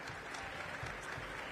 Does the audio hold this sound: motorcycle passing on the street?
no